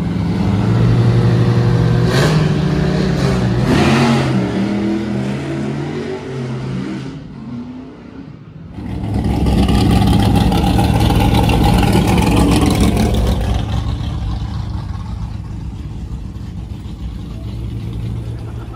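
A car on a commercial shoot drives by at roughly 40 to 50 miles an hour. Its engine roars loudly past, fades, then surges and revs again on a second close pass before trailing off.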